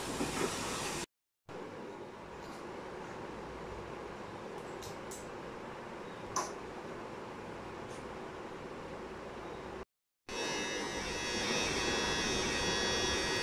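An electric hair clipper running steadily during a haircut, a faint continuous buzz heard in three stretches split by brief gaps, with a soft click in the middle and no voices.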